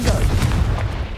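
A short, deep blast from the Confringo fire spell in the video game Hogwarts Legacy, a booming low explosion with a quick follow-up thump, close and loud.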